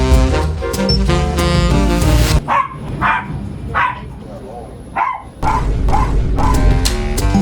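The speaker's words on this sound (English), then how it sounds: "Although that pup sounded cute, I was hoping it might take a nap during the flight" A small dog barks in repeated yips aboard a Southwest flight, the sharp bursts cutting through steady cabin engine roar, with a voice talking nearby.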